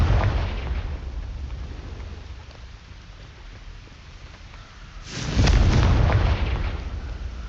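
A Confringo blasting spell in Hogwarts Legacy goes off with a loud booming explosion after a rumbling lull, the blast ringing out and fading over a couple of seconds.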